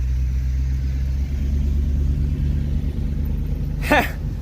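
A truck rolls past over a road bump in a retail area in Cheyenne, Wyoming, a steady low engine rumble with a brief sharp clunk near the end.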